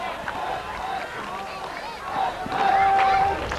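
Spectators at a windy 2003 FIVB World Tour beach volleyball match in Mallorca erupt in a loud, swelling crowd reaction of cheers and shouts after a serve into the net, with an announcer's voice and whistles over the noise.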